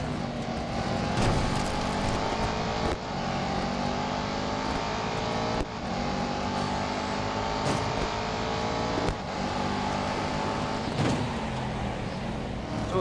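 Race cars roaring in Real Racing 3, a sustained loud engine whine with rising revs and several sharp gear-shift breaks, other cars passing close by, no voices over it.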